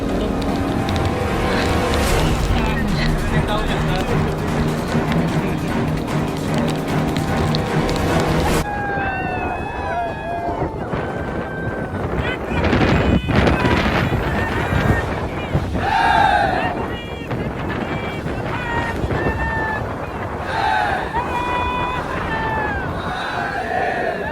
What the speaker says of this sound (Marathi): एक नंबर वारा पाऊस दोन्ही एकत्र आले